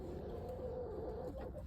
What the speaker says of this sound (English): What a good rooster you are, Jer Bear.